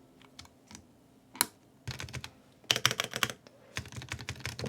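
Clicky keystrokes on a Freja 65 mechanical keyboard, close and crisp, coming in short irregular bursts with brief pauses between them.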